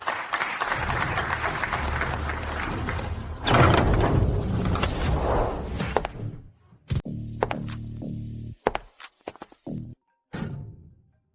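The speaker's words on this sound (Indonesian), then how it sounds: "Mari kita berikan tepuk tangan meriah" A crowd claps loudly for several seconds. The applause dies away, followed by a few sharp knocks and thuds in a quieter room.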